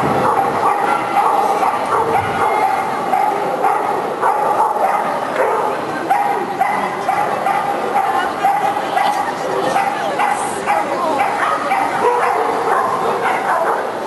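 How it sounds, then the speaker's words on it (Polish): A Jack Russell Terrier yaps again and again in a small-class run at an indoor agility show, the barking sitting in a constant echoing arena din while an announcer talks. "prezentuje się Patrycja z Wiką, Jack, Jack Russell Terriera."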